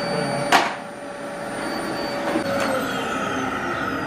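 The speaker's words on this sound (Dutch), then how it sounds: "Wil jij stofzuigen of moet ik stofzuigen?" A household vacuum cleaner runs steadily and close with a constant whining drone, briefly broken by a knock or clunk near the start.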